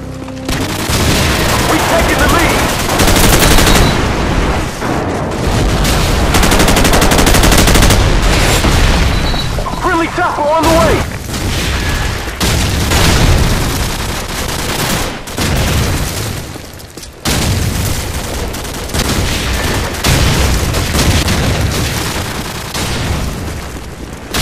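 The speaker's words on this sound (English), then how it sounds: "Friendly airstrike on the way!" Loud, dense Call of Duty 4 battle din of airstrike booms and explosions mixed with rapid gunfire and machine-gun bursts, nearly continuous over the whole stretch with voices calling out in places.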